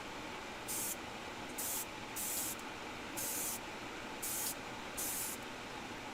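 An airbrush lays a light dusting coat of Timbertech paint, a steady loud air hiss with five or six brighter bursts as the trigger is pressed and released in a regular rhythm.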